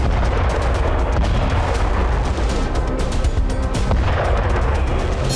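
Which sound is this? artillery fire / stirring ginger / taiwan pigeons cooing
artillery fire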